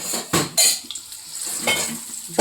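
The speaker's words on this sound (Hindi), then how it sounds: "ये बर्तन की आवाज़ आ रही है" Pots, pans and cutlery clatter and scrape in a home kitchen while chops fry, with a few sharp metallic clanks standing out over a soft sizzle.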